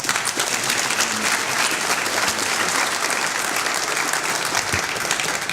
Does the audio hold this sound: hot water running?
no